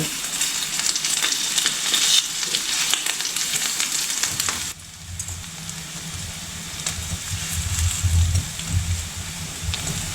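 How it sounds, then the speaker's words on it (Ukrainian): Eggplant slices fry in hot oil in a pan, a dense crackling sizzle that runs loud and steady, briefly dipping midway before surging again, close and alone without speech. "Баклажани підсмажилися з двох сторін."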